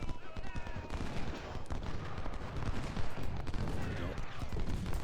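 Skirmishers in an Ultimate General: Civil War battle at Chickamauga fire their muskets in dense, ragged volleys of crackling shots over a steady rumble, and a voice speaks briefly over the din.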